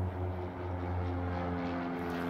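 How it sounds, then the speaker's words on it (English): An airplane taking off, heard as a steady, fairly loud engine drone with a low, even hum that holds throughout, with no talking. "another plane taking off"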